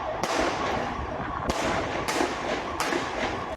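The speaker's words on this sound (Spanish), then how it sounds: "2 policías municipales efectuaron a plena luz del día al menos 9 disparos contra un coche" Police officers fire at a car in daylight in Alcorcón, Spain. Four loud, sharp gunshot cracks ring out at irregular intervals over a constant noisy background.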